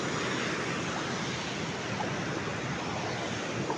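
River falls at a check dam near Kothapalayam, Aravakurichi, in Karur. The water pours with a dense, steady roar and no breaks, loud and broadband, like rushing surf, and no voices are heard over it.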